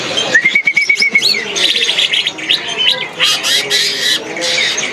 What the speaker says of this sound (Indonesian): Wah, ini cucak hijau